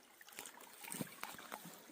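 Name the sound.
small spring trickling water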